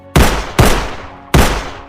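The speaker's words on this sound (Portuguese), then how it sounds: "o homem foi atingido por 3 disparos feitos pela mulher" Three sharp gunshots fired by a woman from a handgun in a narrated story, each a loud, abrupt crack with a short decaying tail, the first two close together and the third after a longer pause.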